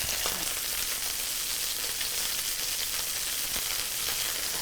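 Halibut sears in an oiled pan with a steady, dense, close sizzle and frying hiss that carries on alone, with no talking.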